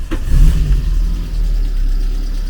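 A VW Polo Mk2 fitted with a swapped-in twin cam AFH engine revs with a gruff, diesel-like note, loud and close, one rising burst settling into a steady rumble.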